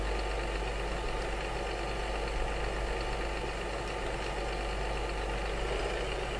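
A big tractor in Farming Simulator 2015 idles steadily in bad weather, a constant low engine drone with a slight knocking texture, unbroken and without talk.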